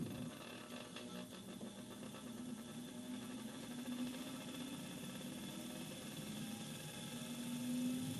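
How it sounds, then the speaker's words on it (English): An unbalanced laboratory centrifuge, its test tubes loaded unevenly, vibrates with a steady, fairly faint mechanical hum and whir that runs unbroken for the whole stretch, with no voices. "When the test tubes inside aren't evenly distributed, the centrifuge is unbalanced."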